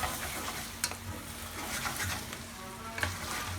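Quiet sizzle and stirring of pasta with pancetta, onions and peas frying in a pan, a soft continuous crackle broken by a few scraping clicks of the utensil, with no talk.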